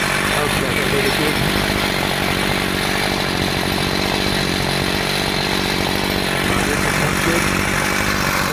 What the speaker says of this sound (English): But now the chainsaw is also caught there.